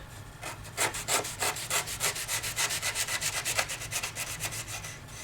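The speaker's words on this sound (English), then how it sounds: "That's 1 1/4 inch manila rope. And I just sliced through that without thinking too much about it." A SOG Team Leader knife saws through thick 1 1/4 inch manila rope in a fast, steady run of rasping back-and-forth strokes, close and fairly loud, with no voices.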